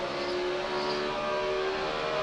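NASCAR stock cars racing at Phoenix in a 2011 Sprint Cup event, a loud continuous engine roar with sustained high-pitched revving whine, cars close and steady throughout.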